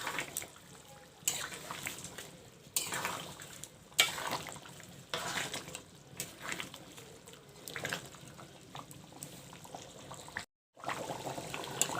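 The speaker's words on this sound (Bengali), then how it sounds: "এখন আমি নেড়ে চেড়ে মশলাটা মাখিয়ে দেব।" Duck meat is stirred with ground onion and cumin spice paste in a pan, giving repeated scraping, sizzling and stirring sounds in uneven strokes close up, with no talk.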